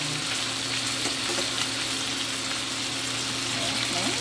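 Lapu-lapu fish fries in a pan of butter and olive oil, giving a steady, close, even sizzle that holds without a break the whole time.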